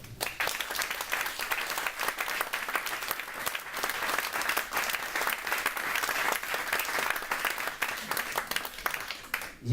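An audience at a EuroSkills results ceremony applauds a supervising team with sustained, dense clapping that holds steady for about ten seconds.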